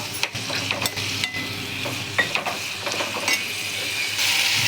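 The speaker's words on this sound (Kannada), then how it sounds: "ಈಗೆಲ್ಲ ಮಸಾಲೆ ಹಾಕಿ ಹುರಿಯೋಣ." Masala spices sizzling in hot oil for okra sambar, a steady frying hiss broken by repeated spoon stirs and scrapes against the pan, close and moderately loud.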